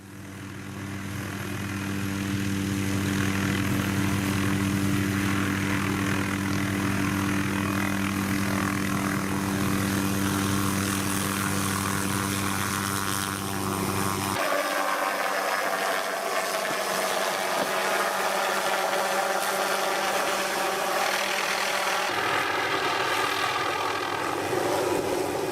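Loud, continuous drone of a tree-sawing helicopter with a chopping rotor, close and steady, its tone shifting partway through.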